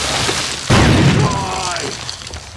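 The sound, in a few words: grenade explosion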